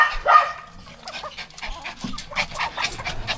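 A thirsty dog left without water pants hard and fast at close range, a steady run of quick breathy huffs with a few louder gasps.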